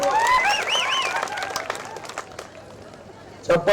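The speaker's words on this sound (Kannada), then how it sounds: "ದೊಡ್ಡ ಚಪ್ಪಾಳೆಯಿಂದ ಅವರು ಅಭಿನಂದನೆ ಸಲ್ಲಿಸ್ಬೇಕು ನೀವು" An audience at a public political gathering breaks into applause. The clapping swells as a raised voice addressing the crowd fades, then dips and returns in a brief, louder burst at the end.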